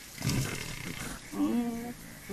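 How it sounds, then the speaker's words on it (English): Near a Cape buffalo kill, a hyena gives low, growling, roar-like calls: one short burst, then a longer tonal moan a second later. The calls are fairly close and sound over faint background noise. "There comes another hyena."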